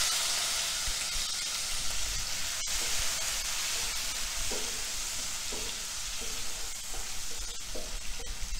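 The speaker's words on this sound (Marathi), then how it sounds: "आणि ह्यामध्ये आता आपला ओला मसाला भाजून घ्यायचा आहे" Onion and wet masala roasting in a pan for dhaba-style dum aloo give a continuous dense sizzle, with soft scraping stir strokes and occasional sharp clicks in a close, steady texture and no voices.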